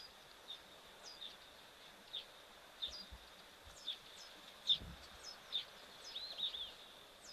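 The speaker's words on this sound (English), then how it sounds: "You hear those masked weavers." Masked weavers chatter at a waterhole, giving repeated thin, scratchy chirps every second or so at a moderate distance over a faint, quiet outdoor background.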